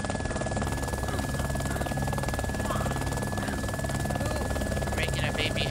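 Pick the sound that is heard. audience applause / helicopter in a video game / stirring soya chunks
helicopter in a video game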